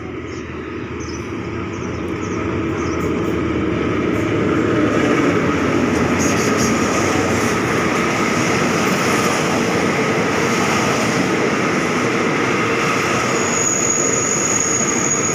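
A Hitachi locomotive hauling ordinary train 202 at a station gives a loud, steady, close rumble of engine and rolling stock, with a faint high squeal near the end.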